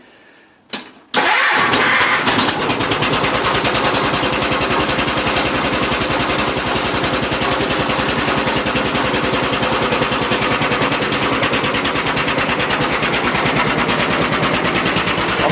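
A John Deere 214 lawn tractor on a chilly mid-60s morning cranks briefly on its starter and catches, then settles into a loud, steady engine drone that runs without a break.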